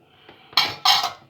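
Kahk cookie dough ingredients, flour, sesame, kahk spice and baking powder, stirred together in a bowl, heard as two short bursts of scraping and clinking of a utensil against the bowl.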